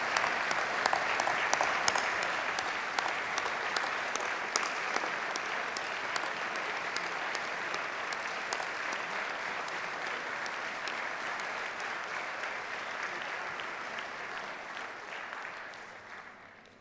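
Sustained audience applause at a university graduation ceremony for the School of Sport, Health and Social Sciences, a broad even roar of many hands clapping for over fifteen seconds before gradually tapering off.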